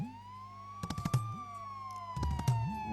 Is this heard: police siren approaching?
yes